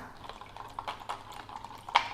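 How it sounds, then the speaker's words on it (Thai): A honey lemon Thai tea drink being stirred in a cup, giving soft liquid swirls and light scraping with a brief clink near the end, close up with no talk. "คนให้เข้ากันนะคะ"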